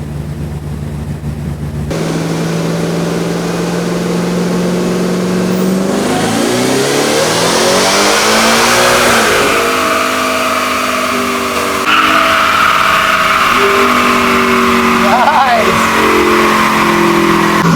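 A tuned, supercharged Ford Raptor R with a Whipple 3.8L blower, a smaller pulley and E85 fuel roars loudly through a dyno pull, its engine pitch climbing steadily, dropping briefly and then rising again under sustained full throttle.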